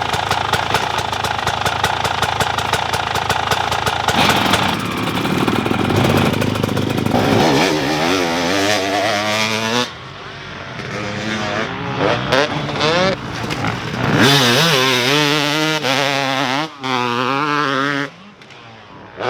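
A motorcycle engine roars loudly, revving up and down through gear changes while riding through Corrèze, France, with wind noise throughout.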